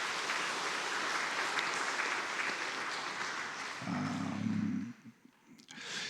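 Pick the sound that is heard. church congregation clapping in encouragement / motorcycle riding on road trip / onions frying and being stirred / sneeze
church congregation clapping in encouragement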